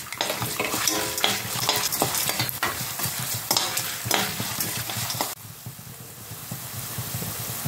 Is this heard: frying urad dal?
yes